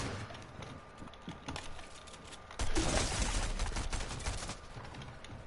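Rapid gunfire bursts from a Fortnite match, a dense volley erupting midway and continuing loud after lighter scattered shots and clicks.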